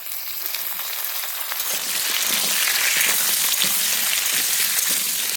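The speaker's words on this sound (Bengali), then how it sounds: "আমি কুমড়োটা এর মধ্যে দিয়ে ভেজে নিচ্ছি" Pumpkin and potato pieces sizzle and crackle steadily in a hot pan, the frying growing louder and denser partway through, with no talking.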